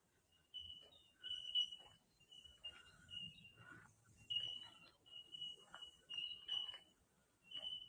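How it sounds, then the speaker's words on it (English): Steady high-pitched insect chirping fills a quiet forest at Glenrock State Recreation Area, with faint bellbird calls scattered through and no talking. "accompanied by the backing track of the insects"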